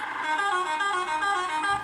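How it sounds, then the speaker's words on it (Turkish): A truck horn sounds in the driving game Euro Truck Simulator 2, one loud sustained blast with a bright, harmonic-rich tone held steadily for nearly two seconds. "Şimdi dur kornalarımızı sanıyalım. İlk kornamız."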